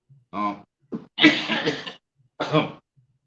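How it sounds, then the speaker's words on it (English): Several harsh coughs in quick bursts, close by, with short pauses between them and a final longer cough fit. "I just started coughing out of nowhere"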